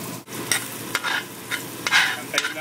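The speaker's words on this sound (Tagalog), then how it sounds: "Antayin lang po natin mag-golden brown ang bawang" Garlic frying in a pan until golden brown, a steady close sizzle with repeated scraping stirs of a utensil at regular intervals.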